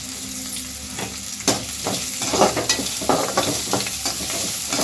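Jeera rice frying in a pan with green chilli pieces, a steady loud sizzle broken by repeated scraping stirs of a spoon against the pan, close up with no talk.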